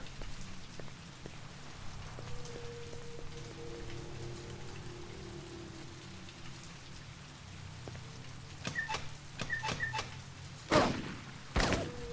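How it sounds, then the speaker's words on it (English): Fake rain patters in a training simulation in Westwood's Blade Runner video game, soft steady drizzle on surfaces, joined near the end by a few sharp thuds and knocks. "Looks like they've even got fake rain going in here."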